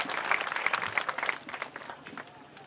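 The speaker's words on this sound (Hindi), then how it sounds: "एक बार जोरदार ताली बजाइए आदरणीय" Applause from a gathered village crowd in Gulzarpur for Prashant Kishor at an outdoor public meeting, a moderate burst of clapping that fades gradually over a few seconds.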